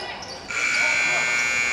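At a high school basketball classic between North Attleboro and Bishop Feehan, the game buzzer cuts in abruptly and holds a loud, steady electronic tone over gym crowd noise.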